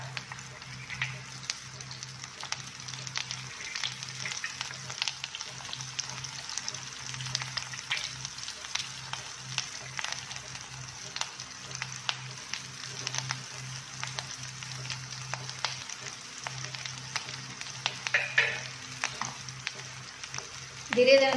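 Potato cutlets sizzle gently in hot oil with a soft, steady crackle, while a low hum runs underneath and a clearer clink or scrape lands near the end.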